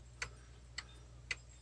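A pendulum wall clock, freshly wound and running, ticks three times at an even, steady pace, each tick crisp and fairly faint over a low background hum.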